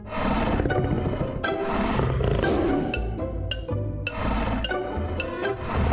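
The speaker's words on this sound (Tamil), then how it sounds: "பாரு, ஒரு புலி." A tiger roars loudly and close, deep rumbling bellows rolling on continuously with sharp higher accents breaking through.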